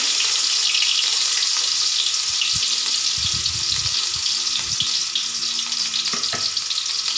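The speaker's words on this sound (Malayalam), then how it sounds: "കുറച്ച് ഇഞ്ചിയും വെളുത്തുള്ളിയും ചതച്ച് വെച്ചിരിക്കുന്നത് ചേർത്ത് കൊടുക്കാം ചെറുതായിട്ടൊന്ന് മൂപ്പിച്ചെടുക്കാം" Crushed ginger and garlic sautéing in a hot pan, a loud, steady hissing sizzle that fills the whole stretch, with a few soft low knocks of stirring in the middle.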